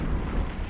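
A ship explodes in a space combat video game, a loud, dense, sustained booming rumble that fills the whole short moment with no pause.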